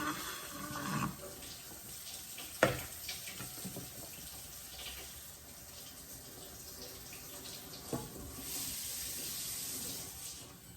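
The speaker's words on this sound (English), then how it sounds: "I go back and forth with the hot water in the sink." Hot water runs from a tap into a kitchen sink in a steady, soft hiss and splash, with a couple of brief clinks and knocks as something is moved back and forth under the stream.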